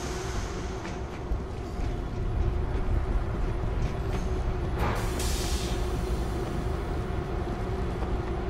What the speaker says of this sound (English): Get to the train controls and start it up!